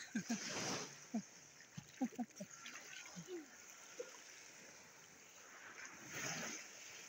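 Strong sea waves wash and splash along a shore where a child is swimming. Scattered short splashes and gushes of water come first, then a swelling rush of surf near the end. Faint voices can be heard now and then.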